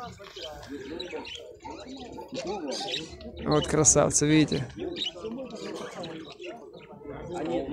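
Budgerigars and other parrots chirp and chatter at an outdoor market, a busy mix of bird calls that swells in the middle while someone talks over them.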